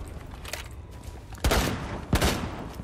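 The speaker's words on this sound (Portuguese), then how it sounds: "tô atirando aqui na janela," Gunfire in Rainbow Six Siege: two short, loud bursts of rapid shots about half a second apart, with softer distant shots before them and no talk.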